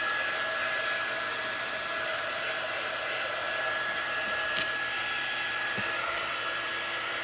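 A hair dryer blows steadily on a photo holder, a loud, constant whooshing motor drone with no breaks.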